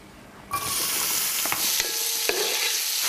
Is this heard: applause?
no